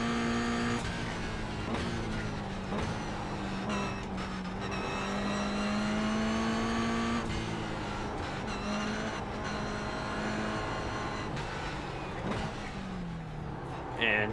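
A race car in an iRacing sim at Long Beach, engine droning and shifting pitch through acceleration and braking with tire noise, continuous and fairly quiet, a voice talking faintly underneath.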